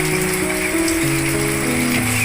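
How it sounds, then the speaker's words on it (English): Steady rain falling outdoors on a cold morning in the countryside, a continuous soft hiss that runs the whole time beneath gentle sustained music tones. "it's cold, very cold outside because it's raining since last night"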